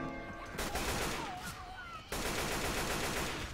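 Rapid gunfire in the video game Left 4 Dead 2, dense continuous automatic shots that drop out briefly and then resume just as loud, with a short burst of background voice in between.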